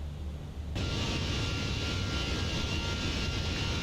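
A steady, loud buzzsaw drone from an Airbus A320's engines in a flight simulator cuts in abruptly after a brief quieter moment and continues evenly to the end.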